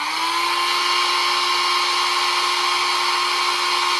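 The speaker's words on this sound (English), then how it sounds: "we're going to have to whip out the hairdryer" A hair dryer runs steadily and loudly throughout, a constant whirring hum with a high airy whine, used during a toy unboxing, with no talk over it.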